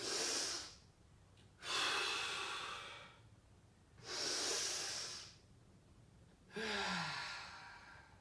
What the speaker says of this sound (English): We do 2 big breaths.